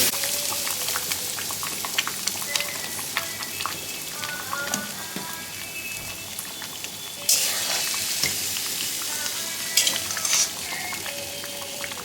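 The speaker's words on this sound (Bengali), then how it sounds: "মশলাটা আমার কষানো হয়ে গেছে দেখুন চারদিক দিয়ে একবারে তেল ছেড়ে দিয়েছে" Spice paste fries in oil for Govindobhog rice khichuri, a close, steady sizzle with crackling spits and occasional stirring scrapes, with no talk.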